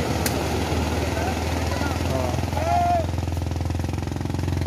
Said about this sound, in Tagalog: Okay, outboard pala ito eh.